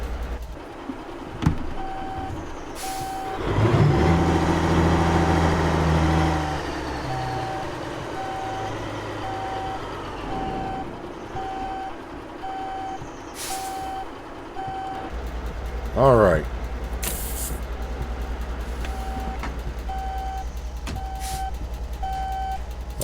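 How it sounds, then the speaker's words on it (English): Reversing beeps from a truck on an Alaskan road sound as a steady, evenly spaced series of loud tones through the whole stretch, over engine rumble, with someone speaking briefly and other vehicle noise in the mix. "I think I left the truck in reverse at this point as well."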